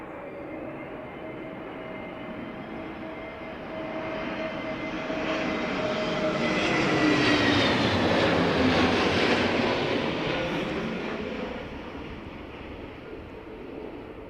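An airliner lands in a gusting crosswind at Heathrow during Storm Darragh, its jet engine roar building to a loud peak as it passes and then easing, with wind noise throughout.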